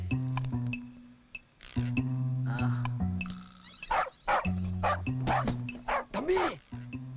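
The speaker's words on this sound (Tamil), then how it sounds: "என்னப்பா நாய் எத்துது?" A dog barks and yips several times in a comedy scene from the Tamil film Winner, the short barks scattered over steady tonal background music with some brief voice sounds.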